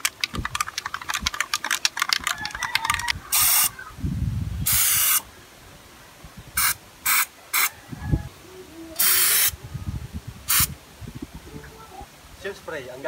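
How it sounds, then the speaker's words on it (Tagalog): Short, loud bursts of aerosol waterproofing sealant spray hiss repeatedly, separated by pauses, with a person talking in Filipino and some tapping and handling noises in between, as the spray seals leaking PVC pipe. "Pwede rin gamitin ang Seal Spray na pantapal sa mga PVC na tumutulo"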